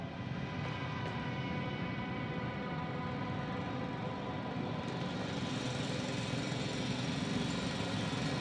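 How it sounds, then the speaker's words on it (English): A loud drill runs in a steady, continuous mechanical drone with a constant hum, close and unbroken throughout, with no talk. "It's a drill!"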